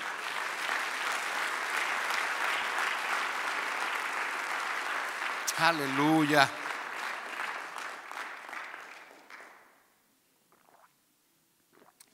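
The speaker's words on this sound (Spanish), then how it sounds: "dale un aplauso grande." A congregation at a Spanish-language church service gives a big, sustained round of applause for about nine seconds. A voice cuts in briefly near the middle, then the clapping thins out and fades to near silence.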